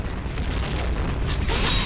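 An explosion in a video game: a loud, rumbling blast fills the clip with heavy low-end boom and a crackling burst near the end, with no talking.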